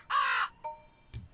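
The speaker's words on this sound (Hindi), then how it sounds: "ये कौवे जैसे तुच्छ पक्षी को मीनाक्षी क्यों बुला रहा है?" A crow caws loudly once, followed by a couple of shorter, fainter calls in the quiet.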